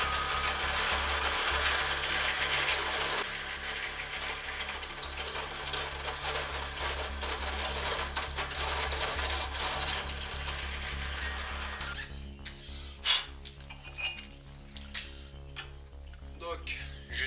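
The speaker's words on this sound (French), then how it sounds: "Donc là j'ai percé à 6 sans problème." A Parkside HSS step drill bit bores through steel with a loud, steady, grinding whine for about twelve seconds, then stops and leaves a few close clanks and rattles.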